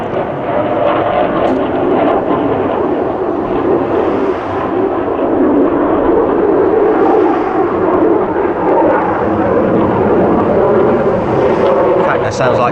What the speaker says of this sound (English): Some jet going over the top of me.